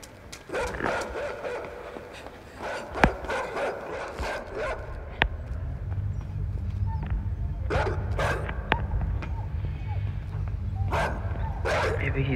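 A dog barks in the video game Inside: a run of sharp barks and yips, close and loud over droning low game ambience, thinning out toward the end.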